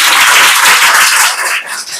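A classroom of children claps loudly together, a dense, steady burst of applause that fills the room and fades slightly toward the end.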